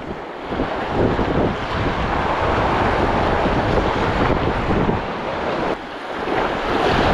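Strong wind buffets the microphone over a steady rush of surf at the shore, loud and continuous with a brief dip near the end.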